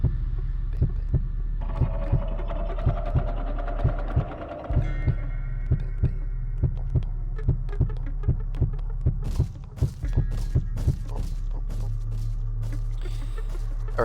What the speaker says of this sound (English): sporadic heartbeat